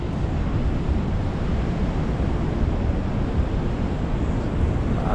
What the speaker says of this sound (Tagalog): Grabe ang lakas ng alon dito.